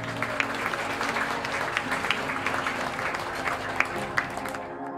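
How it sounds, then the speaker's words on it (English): Wedding guests at a Doltone House reception applaud for the bride, a continuous wave of clapping from a room full of people with a few sharper claps standing out, fairly close and steady until it stops near the end. "Let's give her an applause"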